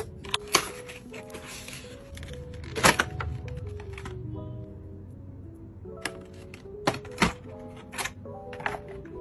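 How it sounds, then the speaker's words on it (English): Clicky, sharp keystrokes on a Lofree Rose Gold mechanical keyboard, sounding in irregular bursts and clusters with brief pauses, close and fairly quiet, with no one talking. "Mechanical keyboard."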